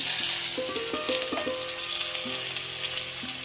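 Cumin, mustard seeds and garlic sizzle in a little oil in a kadhai, tempering for a wild-flower vegetable dish; a steady, close, dense crackle with a few thin tonal whines over it and no voices.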